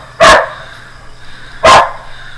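Two loud, sharp dog barks close by, about a second and a half apart, with quiet between them and no voices.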